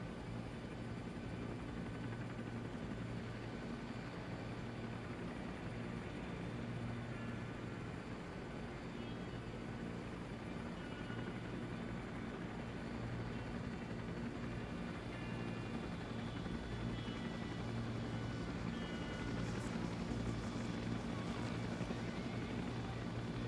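Huey helicopter in ArmA 3 during a Vietnam-era formation flight, rotor thumping and turbine whine holding steady and loud throughout with no pauses.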